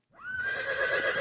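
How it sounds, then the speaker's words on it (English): A horse whinnies loudly and close as a story sound effect, one sustained shrill neigh rising quickly and holding for about a second, alone. "the horse whinnied as it stood on its hind legs"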